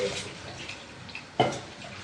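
Water splashes and swishes briefly as a mixer grinder jar is rinsed out, faint running-water noise with one sharper splash near the end, close by.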